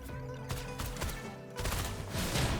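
Gunfire crackles in the video game Wuthering Waves, a quick flurry of sharp shots and bursts layered over game music and effects, moderately loud and busy throughout.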